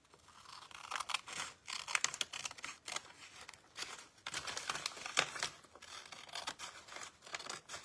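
Scissors cut through paper for a junk journal, with repeated crisp snips and crinkling handling noises in irregular bursts, close and fairly quiet, with no talking.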